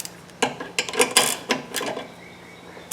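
Bolts being snugged down on an old lawnmower under repair: a short run of sharp metallic clicks and rattles from the tool and hardware, close up, then fading to quiet.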